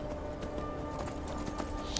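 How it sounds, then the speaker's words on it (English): A starter horse gallops in the video game Skyrim, its hooves making a steady rapid clip-clop under a constant background bed of game sound. "we still have just the starter horse"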